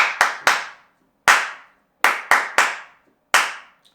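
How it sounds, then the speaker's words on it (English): Hands clap the syncopated rhythm of the Stand By Me bass line, eight sharp, close claps in an uneven groove with short silences between them. "the reason why I'm clapping is because I've found clapping to be the most effective way of internalizing rhythms"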